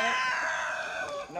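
Chickens on a Vietnamese farm clucking and a rooster crowing, one loud close drawn-out crow with harmonic calls over faint background, no talk.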